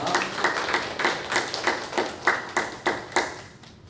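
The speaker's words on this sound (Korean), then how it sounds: "우리의 찬양을 또 기뻐 받으신 우리 하나님 아버지께 영광의 박수를 올려드리겠습니다" A church congregation at a Sunday worship service claps together in a steady, evenly spaced rhythm of about three beats a second, the claps stopping near the end.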